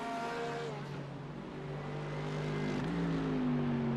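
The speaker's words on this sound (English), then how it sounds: "I love the rumble of this Mercedes" A Mercedes race car at an Indy road course lets out a loud, steady engine roar with harmonic tones, and its pitch climbs gradually toward the end.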